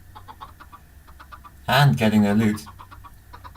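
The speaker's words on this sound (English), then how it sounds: "This is a fairly compact way of breeding chicken" Chickens in a Minecraft-style video game giving short repeated clucks in the background, briefly covered by someone talking over them in the middle.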